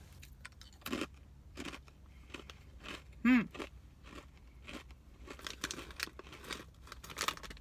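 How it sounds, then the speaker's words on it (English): Honey mustard and onion sticks are bitten and chewed up close, a series of sharp, dry crunches with crinkly crackles in between and one loud snap partway through, each bite distinct and quiet. "They definitely have a nice hearty crunch to them"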